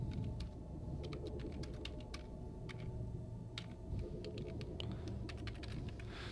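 Computer keyboard typing in Warframe chat, a quick irregular run of clicky keystrokes over a steady background hum, close and moderately quiet, no talking.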